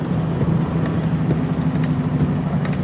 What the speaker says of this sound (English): just driving through the snow in PA right now